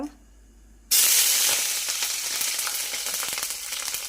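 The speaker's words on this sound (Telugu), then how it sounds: "ఫస్ట్ ఆయిల్ వేసి కొంచెం చెక్క మిరియాలు వేయాలి ఫ్రెండ్స్." Cinnamon and black pepper hit hot oil after a moment of near silence, bursting into a loud, close sizzle that hisses and crackles steadily for several seconds.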